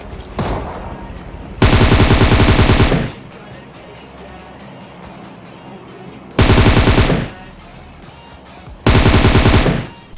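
Loud bursts of automatic gunfire in BGMI, a battle royale shooter, coming in three separate long volleys with quieter gaps of distant game noise between them.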